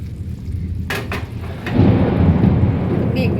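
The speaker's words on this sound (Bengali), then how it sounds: "মেঘ ডাকছে, দেখেছো কি দেখুন।" Thunder rumbles heavily and close, swelling into a long low roll over steady rain, with a few sharp knocks early on, heard during a home paneer cooking session.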